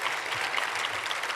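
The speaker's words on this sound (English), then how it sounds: "Let's get another round of applause for this panel." Audience applause for a panel of women physician leaders at a conference, steady and full throughout the short stretch with no voices over it.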